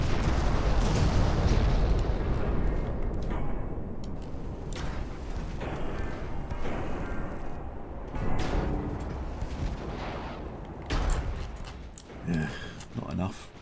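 Torpedo launchers blow up in the naval battle game Ultimate Admiral Dreadnoughts, with deep, rumbling booms and bursts rolling through a dense, continuous barrage, while a voice talks over the gunfire.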